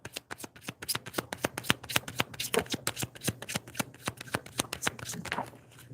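Tarot cards being shuffled by hand, a quick steady riffle of crisp card slaps repeating through the whole stretch, close up and fairly loud.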